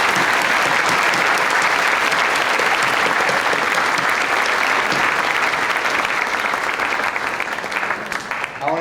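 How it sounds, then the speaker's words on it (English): Applause from a school assembly audience honoring a veteran at a Veterans Day event, a steady, full wash of many hands clapping that holds for several seconds and thins slightly at the close. "I want to just give a quick round of applause for Ted Rack"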